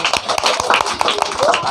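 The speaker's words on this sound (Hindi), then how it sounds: "ताली मारो इसके लिए" Students in a classroom clap for a classmate, a quick burst of uneven hand claps with loud voices chattering over them at close range.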